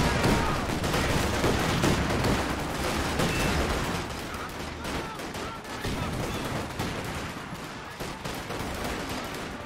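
Dense, continuous battle gunfire from the strategy game Company of Heroes 2, with overlapping shots and bursts filling the whole span at steady loudness, easing slightly midway before picking up again.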